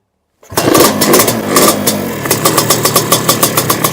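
A Sledgehammer 333 engine fires up for the first time after silence, catching with a loud burst and then settling into a rough, rhythmic idle with distinct regular pulses, close by and alone.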